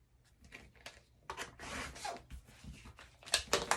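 Quarter-inch strip of fabric being trimmed from a scrappy pouch piece, with a series of short, close, crisp cutting and rustling bursts of uneven rhythm and fairly quiet level.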